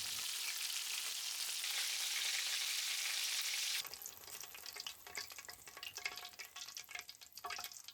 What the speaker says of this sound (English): Okay, I deep fry all the chicken in the oil at 150 degrees.